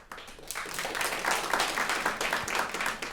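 An audience at a live radio show event applauds, dense clapping that swells after a quiet start and holds steady for a few seconds.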